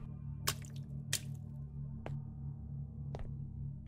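Water drips in the Thai horror game Araya, a few faint, separate drops falling at irregular intervals over a low, steady ambient hum.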